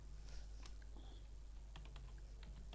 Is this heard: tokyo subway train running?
no